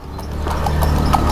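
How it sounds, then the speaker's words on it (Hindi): A horse carries riders on a ride near Mysore, its hooves clip-clopping in a steady close rhythm over a constant outdoor rumble. "तो ये देखो आगे घोड़ा।"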